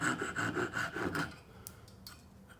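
Hand saw cutting wood for a sliding dovetail joint, with about six steady rhythmic rasping strokes up close, then stopping and leaving a few faint light knocks.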